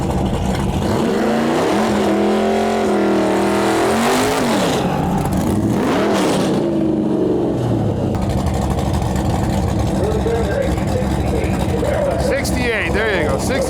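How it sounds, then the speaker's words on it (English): A 1967–69 Chevrolet Camaro SS makes a drag strip pass at a dragway season opener. The engine is loud and close, revving in rising and falling sweeps, then roars off and fades, with crowd and track noise underneath. "we got a old 68 or 69, maybe 67 Camaro SS,"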